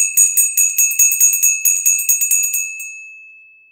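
A bell rings with a rapid series of light strikes, each bright ping overlapping, before the tone slowly dies away.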